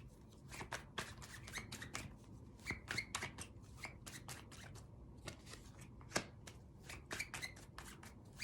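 Tarot cards shuffled by hand in a steady run of crisp, papery riffles and soft slaps, close and fairly quiet, with brief pauses between bursts and no talking.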